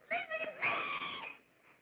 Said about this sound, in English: she really is screaming